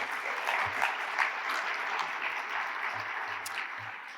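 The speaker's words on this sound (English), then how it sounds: "A round of applause for them, please." Audience at a conference opening ceremony applauding volunteers, a full steady wash of clapping from many hands, with faint low thumps scattered beneath.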